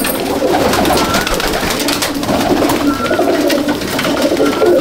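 Kamagar pigeons in a home loft in Icchapur coo steadily and loudly, many overlapping low calls forming a dense, continuous murmur with chirps and rustling on top.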